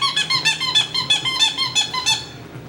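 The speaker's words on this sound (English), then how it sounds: "Do you want the little squeaky toy?" Squeaky dog toy squeezed repeatedly for a small Coton puppy, about eight sharp, shrill squeaks in an uneven rhythm, close and loud, with no voices.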